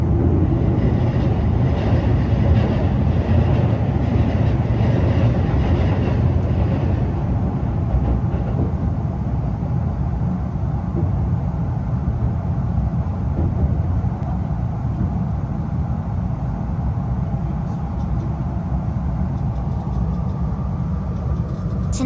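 An E259 series Narita Express train rumbles steadily along the Sobu Rapid Line tracks, a continuous low roar that eases slightly partway through, with no voices.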